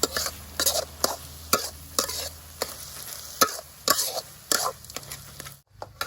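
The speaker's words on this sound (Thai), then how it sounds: "จากนั้นก็ผัดนะครับ" A spatula scrapes and knocks in irregular strokes against a hot wok as food stir-fries with oyster sauce and sugar, under a constant close sizzle, with no talking.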